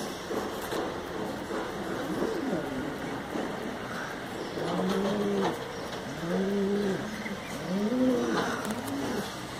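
Pigeons in a coop coo repeatedly, with rising and falling calls that come in clusters during the second half over a noisy background hum.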